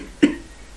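A single short, light cough, soft and brief, standing alone against a quiet background.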